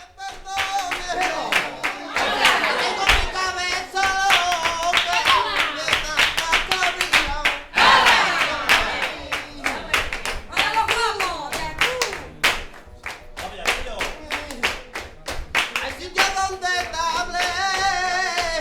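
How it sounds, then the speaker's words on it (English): Rhythmic flamenco hand clapping from more than 30 gypsies at a fiesta in Utrera, sharp palmas cracking in steady interlocking patterns throughout, with singing and cheering voices over them. "More than 30 gypsies, hand clapping and cheering."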